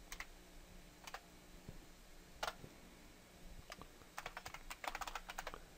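Quiet, steady typing on a computer keyboard while a Linux desktop is installed, with irregular bursts of clicky keystrokes that grow denser toward the end and no talk.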